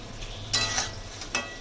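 Spices being sautéed with fried papaya and chili powder for papaya dal: a low, steady sizzle with a few short scraping stirs.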